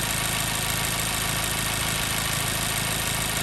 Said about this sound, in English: All right, we're really starting to hear that miss.